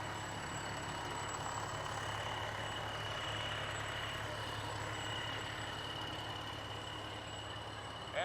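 A fire engine rolls along the street in a small-town Prairie Pioneer Days parade, giving a steady low engine rumble with a faint high tone above it, constant and moderately distant, with no one talking.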